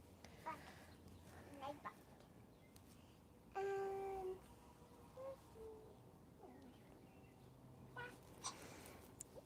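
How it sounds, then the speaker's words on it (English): Several birds chirp and twitter at a distance in short scattered calls, with one clearer whistled note partway through, over a steady low outdoor background. "All the birds are starting to twitter."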